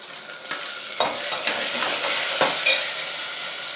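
Onions and tomatoes fry for sambar in a hot pan, a steady close sizzle broken by a few sharp scrapes and clacks of a stirring spoon against the metal.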